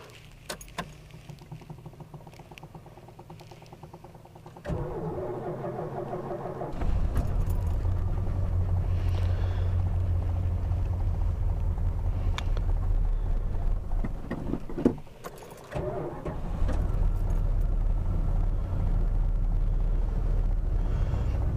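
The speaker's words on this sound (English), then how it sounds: "See, on a cold start, this car starts right up." A carbureted Dodge Chrysler engine over 40 years old cold-starting after the carburetor is primed, cranking briefly, then catching into a loud, steady close-up idle with a short dip partway through.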